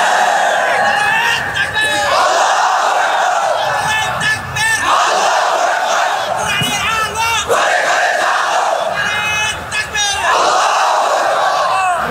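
A large crowd at an Islamic sermon gathering loudly chants the takbir slogan in repeated, rhythmic bursts of massed voices, each shout swelling and fading in a steady call-and-response pattern.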